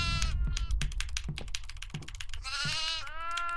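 Goat bleating in the horror video game Devour, several loud nasal bleats in quick succession with a sustained quavering call near the end, accompanied by clicking keyboard-like taps.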